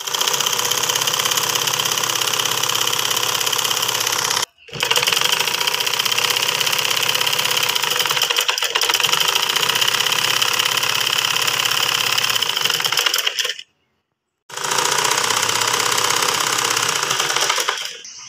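A sewing machine stitches a cloth door mat, running loud and steady with a rapid mechanical whir and needle chatter, pausing briefly twice before starting again.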